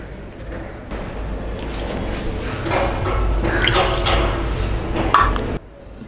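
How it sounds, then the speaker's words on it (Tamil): Water poured into a pot of cooking prawn pulao, a close splashing, trickling pour that builds for several seconds, then stops abruptly. "ஒரு 1/2 டம்ளர் தண்ணி ஆட் பண்ணிவிட்டு"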